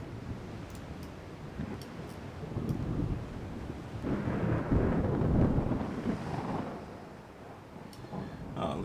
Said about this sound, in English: yeah, it's in the middle of a storm, isn't it?